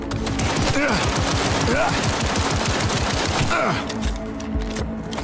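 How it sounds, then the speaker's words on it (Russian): A rapid-fire weapon in Cyberpunk 2077 rattles in long, dense bursts, loud and continuous, with a few sharp mechanical clicks as it stops. "К тому же он так быстро стреляет, что аж хорошо."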